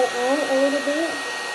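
Steady, close, loud stream of blown air, like a hair dryer, pushed over epoxy resin to shape ocean-wave patterns, with a wavering tone over a constant rush.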